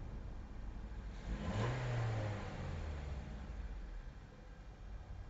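Nissan car engine running with its electronic throttle body controlling the revs, a low engine note swelling briefly then settling back to a steady idle, fairly faint.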